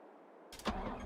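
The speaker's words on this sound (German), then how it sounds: "Motor starten." A tractor engine cranking and catching in the Landwirtschafts Simulator 22 farming game, a quiet lead-in before a short starter whirr and a rising rumble that settles into a low idle, all within a second.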